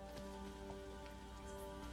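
Steady rain falls during a funeral scene in the Marvel's Spider-Man video game, a dense, even patter that continues throughout with soft tonal music underneath.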